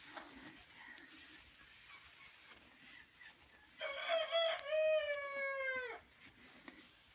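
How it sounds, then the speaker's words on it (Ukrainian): An ornamental bird, likely a peafowl, calls outdoors in snow, a single loud drawn-out harmonic cry lasting about two seconds after faint rustling, with quiet surroundings. "Хороший птах."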